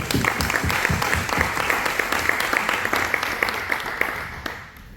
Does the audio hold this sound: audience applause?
yes